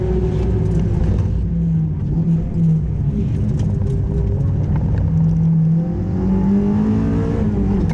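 A fully tuned Toyota MR-S with a swapped K24R VTEC engine is driven on a race circuit lap. It holds a loud, continuous engine roar from the cabin, climbing and dropping through repeated revs and gear changes, with no talking.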